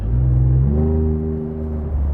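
Ford F-150 Raptor with an aFe 3-inch stainless steel cat-back exhaust, Rebel dual side exit with black tips, cruising on the highway at about 2,000 RPM: a steady, deep low drone that hums continuously and fairly loud with no talk.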